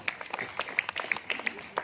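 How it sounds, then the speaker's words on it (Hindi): Light audience applause greets a performer at Bollywood Park in Mumbai's Film City, scattered, fairly faint claps in an irregular rhythm lasting under two seconds. "इनके लिए जोरदार तालियां।"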